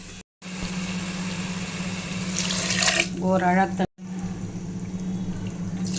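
Water is poured into washed rice in a pressure cooker for chicken biryani, a continuous close splashing pour that cuts out briefly twice, with a short spoken phrase partway through.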